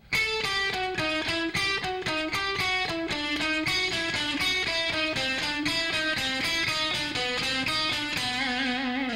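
Slow electric guitar lick in an A blues Dorian run, notes picked one at a time in a steady, deliberate rhythm with a lightly distorted tone, played alone at close range without pause.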